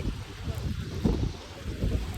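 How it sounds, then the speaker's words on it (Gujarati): Strong wind buffets the microphone in a low, rumbling roar that gusts unevenly throughout. "પવન તો જો ઉપરેથી જોડે ઉડાડી ના લઈ જાય"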